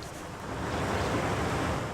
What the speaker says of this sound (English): It raises the water, those platforms raise with it.